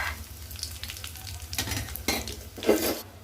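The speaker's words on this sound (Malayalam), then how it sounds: "അതിലേക്ക് നമ്മൾ ചേർത്ത് കൊടുക്കാൻ പോകുന്നത് വറ്റൽ മുളകും ഉലുവയാണ് കേട്ടോ." Dried red chillies and whole fenugreek seeds sizzling in hot oil with mustard seeds for a bilimbi pickle, a close crackling fry broken by several louder bursts of stirring and spattering.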